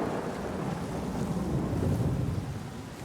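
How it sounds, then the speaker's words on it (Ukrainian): Rain and thunder in the God of War video game, a dense steady wash of rainfall with a low thunder rumble swelling and fading, heard alone. "дощ, гром, молнія."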